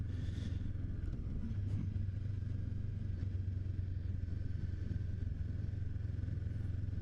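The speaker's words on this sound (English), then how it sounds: "Alright, now bike I'm riding is a CB500F 2017" A 2017 Honda CB500F motorcycle being ridden, its steady engine drone and wind rumble continuous and close throughout, with no talk.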